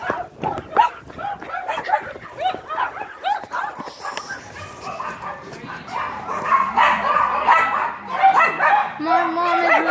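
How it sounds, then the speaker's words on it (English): A puppy, newly brought home at a Christmas party, yips and barks in short bursts amid lively overlapping talk and festive background chatter. "I'm gonna go show you the dog."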